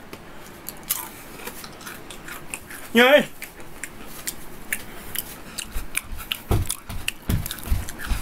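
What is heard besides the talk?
chewing sounds, ASMR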